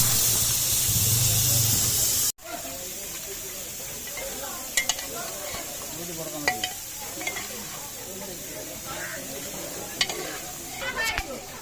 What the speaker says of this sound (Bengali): আমাদের মাছটাই দেখো নুন হলুদ মেখে তেলে দিয়ে দিল মাছটি।